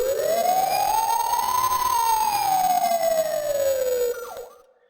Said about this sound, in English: I added the, you know, Sonic CD Siren. It's, it's basically, like, a bit crushed.